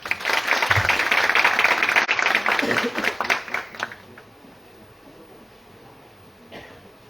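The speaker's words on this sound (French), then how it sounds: "elle mérite nos applaudissements" Audience applause at a university meeting with students in Rabat, loud clapping for about four seconds that tapers off, with coughs and faint murmuring at the end.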